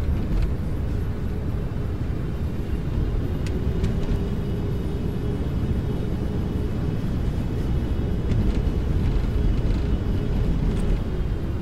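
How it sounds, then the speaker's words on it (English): Airliner jet engines roar steadily with thrust reversers deployed during landing rollout, a loud continuous rumble that holds without letup throughout. "speed brakes are up and reversers are active"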